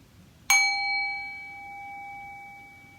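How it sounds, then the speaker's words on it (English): A single bell struck once for mindful listening practice in a school setting, a sharp metallic ding followed by a clear ringing tone that fades slowly over a few seconds in an otherwise quiet room. "So we pay attention to the sound of the bell."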